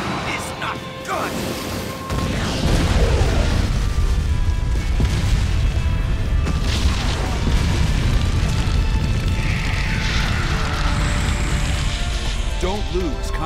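Flame bomb explosions in the video game Naruto Ultimate Ninja Storm, during the Tsunade versus Orochimaru boss fight: after a quieter opening, a heavy blast kicks in near two seconds, then a sustained roaring, crackling fire din with further booms over busy game audio.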